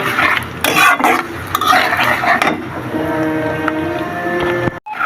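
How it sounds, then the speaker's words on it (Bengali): Onions frying in oil in a wok, with clattering stirring and utensil scrapes over a soft sizzle, close and fairly loud, with brief pauses. "এখন আমার পেঁয়াজটা ভালোভাবে ভেজে নেব।"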